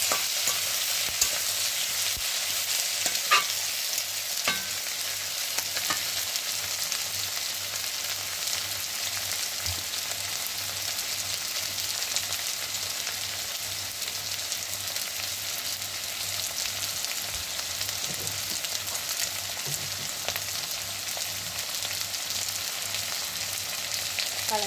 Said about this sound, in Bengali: মোটামুটি পেঁয়াজ আলু দিয়ে আমি একটু নাড়ানাড়ি করে নিচ্ছি এখন ভালো মতো করে